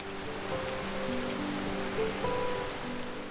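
Victoria Falls on the Zambezi River, where millions of litres of water plunge into a narrow chasm, gives off a steady, dense roar with no breaks, sounding wide and rushing like heavy rain, under a faint faraway tonal hum.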